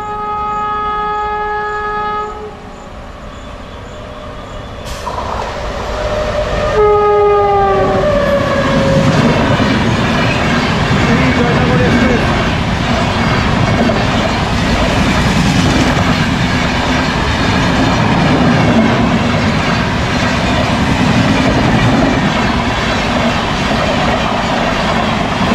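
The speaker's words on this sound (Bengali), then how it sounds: "কোনো মেল ট্রেনই আসছে।" A mail train passes a rail gate: a gate bell rings, then a loud horn blast sounds before the train rumbles past close by with steady clattering wheels that continue to the end.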